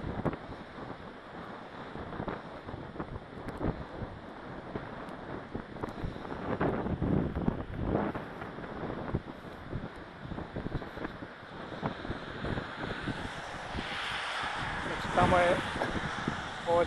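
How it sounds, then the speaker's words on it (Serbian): Wind gusting across Omaha Beach on the English Channel coast, a continuous rumbling buffet on the microphone with surf in the background, while a person talks over it. "samo vetar duva i to iritira"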